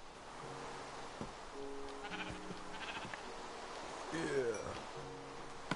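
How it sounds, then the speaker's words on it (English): Sheep bleat in the Minecraft video game, several short, evenly pitched baa calls repeating at intervals against faint background noise, with one louder, wavering bleat near the end. "Sheep is going down."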